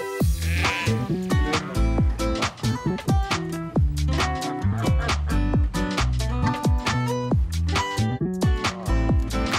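Miniature sheep bleat on a farm, loud and close, in a dense overlapping chorus of repeated calls that continues throughout with no talking.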